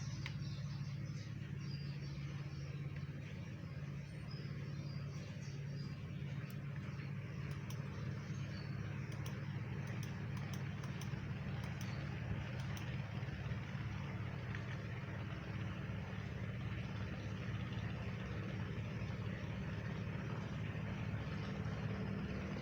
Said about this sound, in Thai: มีแต่เสียงรถไถนาครับ